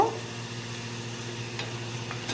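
French fries cook on a low flame, giving a steady soft sizzle and bubble of hot oil close by, with a couple of faint clicks near the end.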